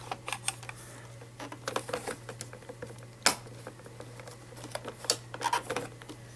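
A Dyson AM09 hot/cold fan's stand part is handled and twisted with scattered small plastic clicks and taps, one sharper snap standing out midway, all faint and close in a quiet room.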